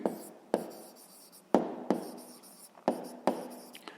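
A pen writes on paper during a sixth-grade maths exercise, giving short scratchy strokes that start with sharp taps, about eight strokes in an uneven rhythm, close and clear.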